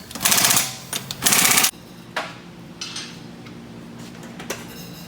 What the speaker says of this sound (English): You got a torque stick on the gun.